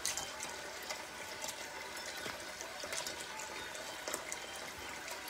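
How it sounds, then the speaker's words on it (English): Water pouring and trickling into a pan in a kitchen, a steady soft splashing flow with occasional small spikes, faint and fairly close, with no talking. "I'm letting that water come up about halfway up the outside of the pan."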